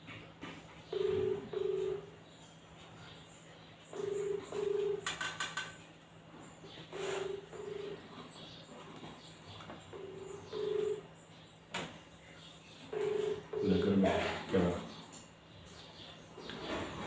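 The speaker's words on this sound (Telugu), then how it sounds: "ముందుగా ఫోన్ డైల్ చేస్తున్నాను" A phone call is placed and rings through, with paired ringback beeps repeating about every three seconds over a quiet room, ending with a brief louder burst of tones.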